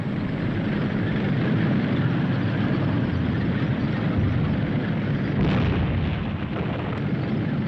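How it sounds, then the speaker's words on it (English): German and British tanks firing during a joint military exercise in 1960, heard as a steady, dense roar of distant gunfire and rumble, loud and continuous with no clear gaps. "The German tanks will give covering fire while the British tanks advance."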